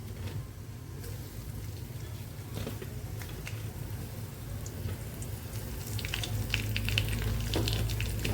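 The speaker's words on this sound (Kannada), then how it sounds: "ಅದು ಚಟಪಟ ಅನ್ನೋಷ್ಟೊಟ್ಟಿಗೆ ಜಜ್ಜಿದಂಥ ಬೆಳ್ಳುಳ್ಳಿ ಸಹ ಹಾಕ್ಕೊಳ್ಳೋಣ" Cumin and crushed garlic spluttering in hot oil, a soft continuous sizzle with fine crackles that grows a little louder toward the end, quiet and alone with no talking.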